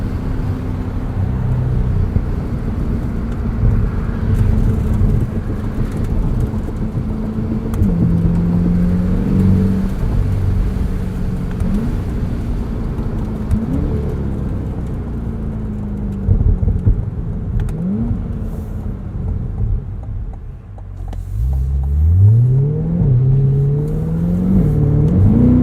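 A new Chevrolet Corvette drives and accelerates, its engine droning loudly and rising through repeated gear changes, with a deeper surge of throttle near the end.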